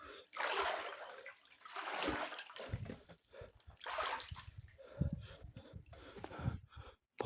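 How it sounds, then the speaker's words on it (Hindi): Water stirs and splashes in a river at night, with loud, close, irregular sloshing bursts separated by brief lulls. "ऐसा लग रहा है नदी में हलचल हो रही हो"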